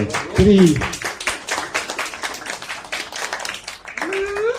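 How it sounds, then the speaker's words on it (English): Light audience clapping at a comic book launch event, a scattered patter of hands at moderate distance with voices and cheers rising over it at the start and end. "So let's have a round of applause for"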